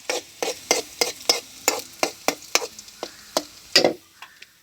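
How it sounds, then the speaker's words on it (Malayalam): Curry leaves going into hot oil in a frying pan, crackling under a dozen or so sharp, evenly spaced stirring scrapes close by, with a faint sizzle between strokes and no talk. "അപ്പോഴത്തേന് നമുക്ക് കരിവേപ്പിലേക്ക് ഇട്ടാം."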